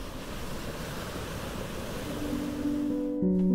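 Beach surf and waves wash in a soft, steady roar, and sustained piano notes come in over the water toward the end.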